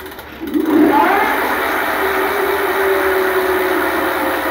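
Electric e-bike hub motor running on throttle, rising to a steady high whine after a brief spin-up and holding at a loud, even pitch, close by with no talk.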